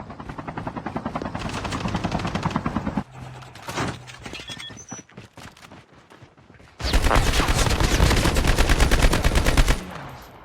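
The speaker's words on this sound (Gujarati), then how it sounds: "હેલિકોપ્ટર આવ્યું." A helicopter's rotor thuds loudly and close, mixed with rapid bursts of gunfire, with a brief quieter stretch in the middle, in a Call of Duty game battle.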